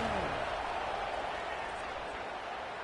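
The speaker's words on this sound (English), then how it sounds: "Listen to the crowd energy here in the early going. This is a tough environment for visitors." A college football stadium crowd roars in a steady, dense wash of cheering that holds loud and unbroken for the whole stretch.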